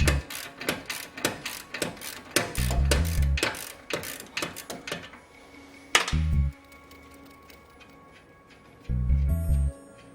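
A ratchet wrench clicks rapidly while the coupling rod is removed from a Bilstein B4 strut, quick mechanical ticking in bursts, broken by a few heavier low thuds and clunks of tools and parts.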